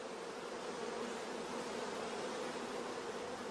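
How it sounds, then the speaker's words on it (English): Dense, steady buzzing of a mass of honeybees in a queenless starter colony, loud and close, droning evenly throughout without pause. "in the queenless starter colony, we can hear the loud buzzing of the orphan bees"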